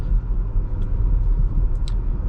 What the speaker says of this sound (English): This 2-liter turbocharger engine, a little bit unrefined, but makes good torque